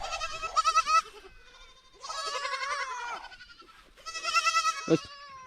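A goat bleats during milking at a desert camp in Rajasthan, three long, wavering, close calls separated by short pauses, with no talk.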